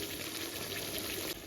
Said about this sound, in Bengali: বেশি নয়, অল্প একটু জল দিয়ে দেব।